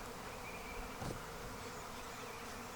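Dense, steady buzzing of a honeybee swarm near a tree fills the air, a continuous droning hum with no voices.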